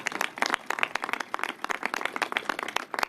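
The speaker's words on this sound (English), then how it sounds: "Certainly deserves a round of applause for that." Scattered audience clapping at a mayor's signing ceremony for traffic safety bills, a steady patter of hands with no voices over it.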